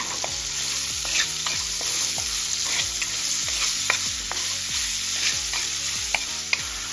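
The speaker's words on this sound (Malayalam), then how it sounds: "വെളുത്തുള്ളിയുടെയും ഇഞ്ചിയുടെയും പച്ചമണം മാറുന്നത് വരെ നന്നായി ഇളക്കി കൊടുക്കുക." Garlic and ginger stirred as they fry in hot oil for a fish curry: a steady sizzle with a regular run of scraping stirring strokes, close and fairly loud, with no voices.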